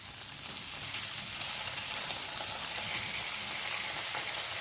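Boneless chicken frying in a pan with ginger garlic paste, a steady, bright sizzle that holds evenly throughout with no voices over it.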